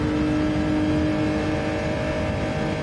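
A GR3 race car engine drones steadily in a racing video game, a continuous loud mechanical hum with whirring tones holding throughout, with no talking over it.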